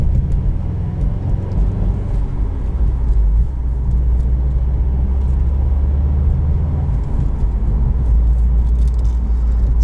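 Steady low engine drone from a 2018 Subaru WRX STI on the road, a constant close rumble with road noise, holding even loudness throughout with no talking.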